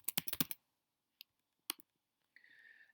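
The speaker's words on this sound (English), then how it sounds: "so we can type that in." Bursts of keystrokes on a computer keyboard, a quick cluster of clicks at first, then a few isolated taps, ending in a brief higher-pitched hum; close and fairly quiet with no voices.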